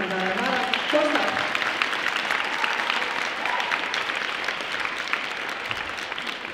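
Audience at a dance school anniversary gala applauds in a loud, dense burst of clapping that carries on steadily and eases slightly toward the end, with a voice speaking briefly at the start.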